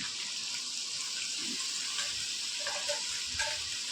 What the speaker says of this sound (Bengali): এই মশলা দিয়ে ভালো করে কষে নেব।